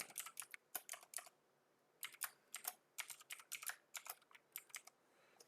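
Quiet, close typing on a computer keyboard, with bursts of rapid key clicks separated by short pauses and no voices over them.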